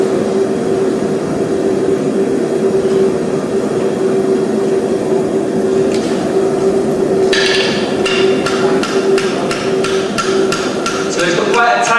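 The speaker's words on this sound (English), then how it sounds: "just run your hammer along that ledge, just to flatten the concave a bit, just to make it easier to fuller." A farrier hammers a steel horseshoe on an anvil at an open day, striking in a rapid series of sharp, ringing blows in the second half over a loud, steady background drone.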